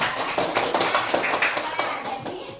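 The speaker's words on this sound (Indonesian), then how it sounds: "Tepuk tangan untuk semuanya." Children in a classroom clap together in a quick, steady burst of many hands, near and fairly loud, with a voice briefly audible.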